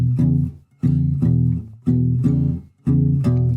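Blues backup guitar in standard tuning, the bass strings palm-dampened while the treble strings ring, playing a repeating shuffle pattern of short chunky chords in clear groups, close and alone.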